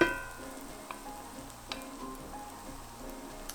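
Garlic and vegetables sizzle steadily in a pan for a shakshuka, a soft continuous crackle broken by a few faint scrapes of stirring.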